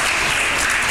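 Classroom audience applauding during a school quiz game, a dense, steady burst of clapping from many hands throughout, fairly loud and close.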